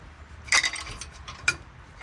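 Ratchet wrench working a 17 mm brake bracket bolt on the rear brakes of a Toyota 4Runner, two short metallic clicking bursts, close and alone in a quiet garage.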